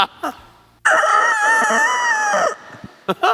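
A voice imitates a rooster's crow, one long loud strained cock-a-doodle-doo, with brief sounds before and after.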